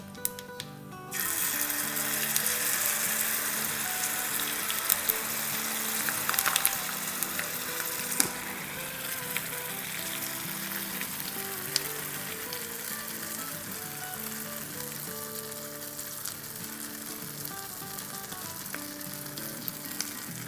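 Food hits a hot pan and starts sizzling loudly, then settles into a steady frying crackle with occasional clinks, no one speaking.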